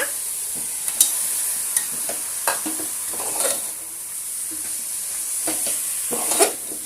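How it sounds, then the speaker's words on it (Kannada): Mutton goes into a frying pan with methi leaves and is stirred: a low sizzle runs underneath scattered scraping and clinking spatula strokes against the pan, close and moderately loud. "ಇದಕ್ಕೀಗ ನಾವು ಮಟನ್ ಆ್ಯಡ್ ಮಾಡ್ಕೊಳ್ಳೋಣ."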